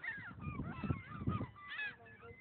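Several geese honk in a cluster of nasal, rising calls, fairly close but soft, overlapping in quick bursts and then a last pair of honks.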